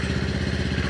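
A Kawasaki KLE500 and a Versys-X 300 motorcycle idle together, giving a loud, close, steady rhythmic engine chug with fast, even firing pulses.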